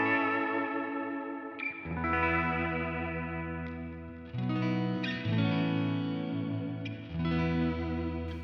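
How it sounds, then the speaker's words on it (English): Electric guitar played on the neck pickup of a Kiesel through a Line 6 HX Stomp XL ambient patch with hall reverb, effects-heavy sustained chords and notes swelling into lush, echoing washes, played alone. "Let's go with the Hall. So we're going to have 2 reverbs in here"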